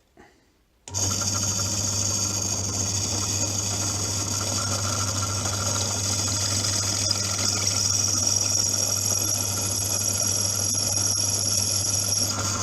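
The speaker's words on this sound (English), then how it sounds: "that drill bit is awful" A drill bit drilling into plastic runs continuously for several seconds after a brief start, a steady, loud mechanical whir with a high whine above a low motor hum.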